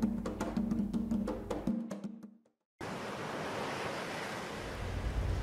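Sea waves and wind at the edge of the ocean, a dense steady roar of surf and rushing air, loud and continuous apart from a brief silent break.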